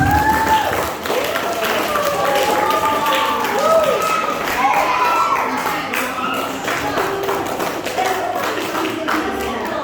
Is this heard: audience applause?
yes